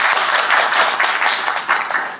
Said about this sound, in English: can we applaud for all of you guys here?